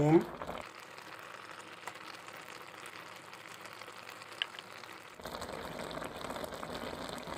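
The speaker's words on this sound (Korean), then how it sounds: "지금 중불에서 지금 잘 끓고 있어요" Aged kimchi and pork belly stew boiling over medium heat, a faint steady bubbling and crackle that lasts throughout, with someone talking over part of it.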